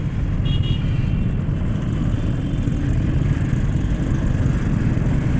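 Dense traffic jam on the Hanif flyover with many motorcycles and cars, a steady loud wash of idling engines and road rumble close around, continuous throughout.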